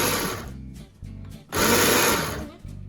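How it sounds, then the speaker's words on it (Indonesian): An electric blender or chopper purees cut cassava for fufu in a home kitchen, its loud motor whirring in close bursts that cut out briefly twice before roaring back. "baru deh bisa dimasukkan ke blender atau chopper untuk dihaluskan"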